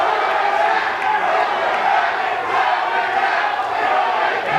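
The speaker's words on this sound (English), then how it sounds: "And the crowd here chanting, "Throw it back."" Wrestling event crowd chanting in unison, a loud, rhythmic mass of voices filling the hall with steady pulses of shouting.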